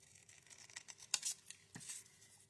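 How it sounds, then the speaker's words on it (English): Scissors snipping through cardstock to cut out paper rainbows for a stamped craft project, a quiet close series of irregular crisp snips and rustles with no talking. "So I'm just going to cut out 2 of these rainbows."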